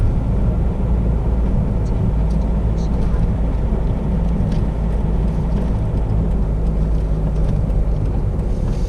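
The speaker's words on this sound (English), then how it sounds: "Oh, watch, there's a car coming." A car on an outback road approaching Bourke, New South Wales, Australia, heard as a steady, loud rumble of engine and road noise that fills the whole stretch without a distinct peak as it passes.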